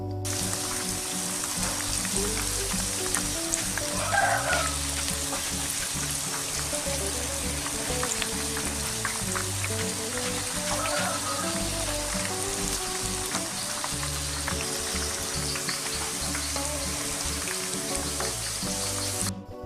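Steady crackling sizzle of eggplant slices frying in hot oil over high heat, constant and close, with no voices.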